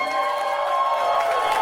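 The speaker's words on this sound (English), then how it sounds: "I want you guys to give a big round of applause" A brief burst of comedy show audience applause and cheering, steady and dense throughout, with no pause.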